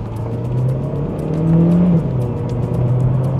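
A Mercedes-Benz A200 hatchback in sport mode pulls hard from inside the cabin, its engine note rising steadily and holding loud and close for several seconds.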